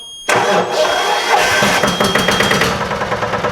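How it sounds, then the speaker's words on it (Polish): A Toyota Supra engine with a newly fitted starter cranks and catches, then settles into a steady, close idle with a slightly uneven rhythmic pulse. "nowy rozrusznik wsadzony, silnik już odpala"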